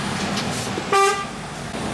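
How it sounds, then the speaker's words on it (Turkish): A single short horn toot from a semi-truck rings out over steady city road and engine noise, brief and fairly close. "nerede ne gördünüz de korna çaldınız"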